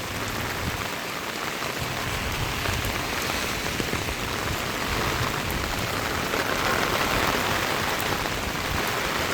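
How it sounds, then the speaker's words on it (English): Heavy rain pours steadily during a thunderstorm in the Philippines, a dense, continuous hiss of drops hitting surfaces, loud and unbroken throughout with no voices. "Look at the rain."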